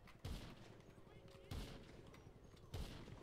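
Gunfire in the video game GTA Online comes as three evenly spaced heavy shots, each a punchy low thump with a short tail, over a faint background.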